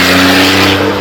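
A McLaren GT8 supercar accelerating up the Shelsley Walsh hill climb, a loud close engine roar with a steady humming tone, brief and without talk.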